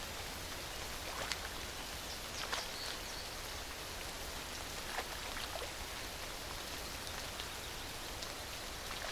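Rain falls at night in a city as a steady, even hiss with scattered, sharper drips and splashes landing nearby, and no voices.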